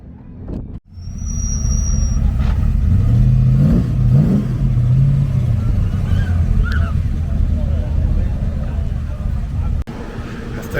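A Ferrari 427 fitted with Weber carburetors rumbles loudly as it pulls up at a Monterey car show, its engine revving and rising in pitch before settling into a steady growl, up close, with voices faintly in the background.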